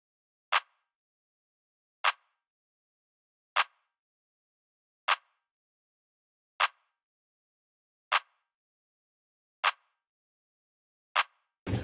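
A sharp, dry clap repeats alone at an even, steady pace, about every second and a half, with silence between hits.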